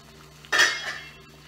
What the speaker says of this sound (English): so let me remove the lid.